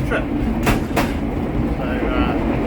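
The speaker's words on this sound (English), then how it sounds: "They're called DA class diesel locomotives" Restored 1950s DA class diesel locomotive hauling a train of all-steel carriages, a steady rumbling rail drone with a couple of brief clacks, heard close and continuous under a speaking voice.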